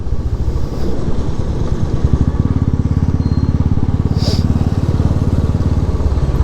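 Motorcycle engines on a group ride run in a steady, close, pulsing thrum, and a second engine's rapid beat joins partway through.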